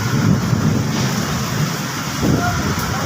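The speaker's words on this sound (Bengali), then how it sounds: "কিছুক্ষণ পরে বৃষ্টি নামবে অতিরিক্ত বাতাস চলে দেখেন দর্শক" Strong wind roars over a street at Bangla Motor in Dhaka just before rain, a steady, loud, broadband rush that buffets the microphone throughout with slight swells.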